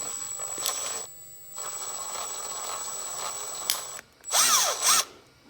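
A power drill drives a deck screw into a plastic bin storage rack in several short whirring bursts, a steady run followed by a louder ramping spin near the end, with no one speaking.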